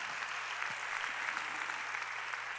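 A church congregation at a Korean Sunday worship service claps together in a steady, even patter, heard at moderate distance and fairly quiet, with no voice over it.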